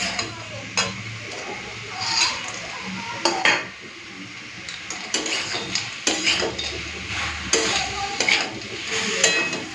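Fried lentil dumplings are stirred into a spinach curry in a pan, with steady scraping and a soft sizzle, broken by sharp clinks of a spoon against the metal pot, close and fairly loud.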